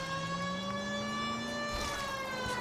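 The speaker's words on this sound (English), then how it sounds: "You said it was okay if I used the siren." A wailing police car siren from the video game L.A. Noire, a loud, sustained tone that slowly rises in pitch, rich in harmonics, with engine noise beneath it.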